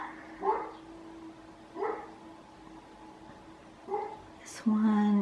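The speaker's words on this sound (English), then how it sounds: "Sorry about the dog next door barking." Next door, a dog gives single barks spaced about two seconds apart, sounding muffled and somewhat distant against a quiet room.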